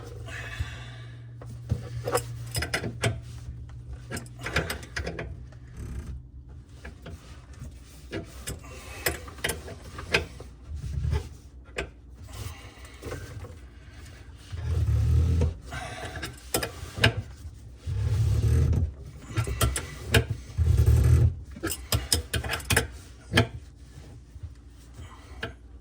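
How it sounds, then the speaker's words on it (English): A wrench tightens the nut and ferrule on a copper water line to a fridge, giving quiet, irregular metallic clicks and ratcheting ticks with a few heavier thumps, close up and without talk. "I like to kind of push on the copper as I'm tightening the nut and ferrule to make sure it stays in the valve"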